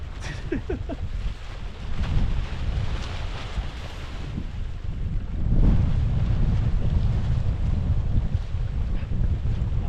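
Wind buffets the microphone outdoors while a Lanshan 2 tent is being pitched, a loud continuous low rumble that swells around the middle and stays strong to the end.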